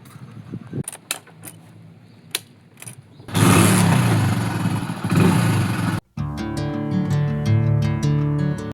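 A motorcycle engine revs up loudly and holds a rough, sustained roar, cutting out briefly before resuming with a steady rumbling drone.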